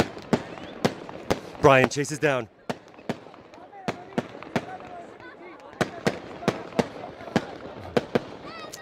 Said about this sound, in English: As we see fireworks now going off.